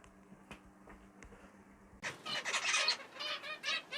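Finches and Fife canaries in a backyard aviary shed burst into bright, busy twittering and chirping after a couple of seconds of near-quiet with a few faint clicks.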